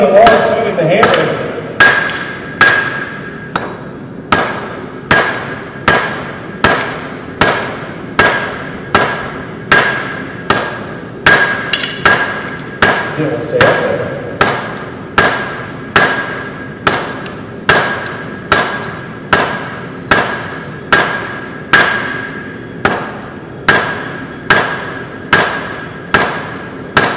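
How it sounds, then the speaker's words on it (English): A blacksmith's striker swings a hammer in a forge, landing about two dozen loud, ringing blows at a steady, even rhythm close by. "He's not just dummying along swinging the hammer."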